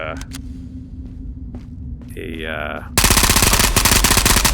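Gunfire rings out in the VR shooter Ghosts of Tabor: scattered single shots and mechanical clatter lead into a sustained, loud burst of rapid automatic fire with a low rumble beneath it.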